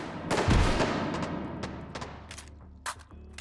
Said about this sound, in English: Ah, grenade!